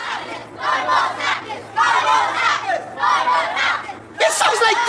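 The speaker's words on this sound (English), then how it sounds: "It's the demonstrators. They're coming for you." A large crowd of demonstrators roars and shouts in loud, surging waves, with bursts of yelling rising and falling and a sharp cry near the end, under a low steady hum.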